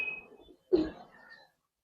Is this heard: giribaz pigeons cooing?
yes